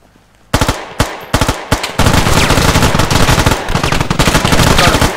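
Loud bursts of vehicle-mounted machine gun fire in the video game Squad, a few short volleys followed by a sustained rapid stream of shots, close and dominant.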